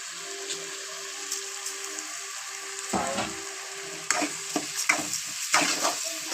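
Food frying in a pan, a steady close sizzle with occasional stirring scrapes and louder bursts toward the end, no talking.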